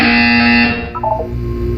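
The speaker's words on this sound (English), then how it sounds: "You will hear a buzzer. When you hear the buzzer, look up at the ceiling." A loud, harsh electronic buzzer blares for under a second, then cuts off into a few short synthetic tones.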